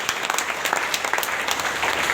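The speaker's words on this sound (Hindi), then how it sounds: "एक जोरदार ताली महान शख्सियत के लिए" An audience at a DXN network business gathering claps loudly and continuously, a dense sustained burst of many hands with no break.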